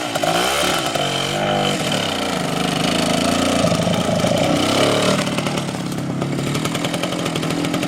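A DKW RT 125 motorcycle's small two-stroke engine runs steadily and loud, revving up and down with a buzzy, rasping drone throughout, no talking.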